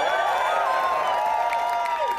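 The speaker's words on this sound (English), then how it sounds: "can we have a big round of applause for DSA?" A rally crowd applauds and cheers for DSA, a steady roar of clapping and whoops filling the space, loud and continuous throughout.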